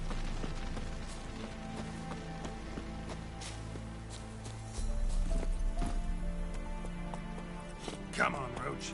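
Roach the horse galloping in The Witcher, a steady run of rhythmic hoofbeats over ambient game sound, with a brief louder thump near the end.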